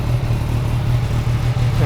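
An MV Agusta F3 Oro motorcycle with a 675cc three-cylinder engine revs up, producing a loud, steady, close-up drone with a strong low rumble that holds almost level throughout.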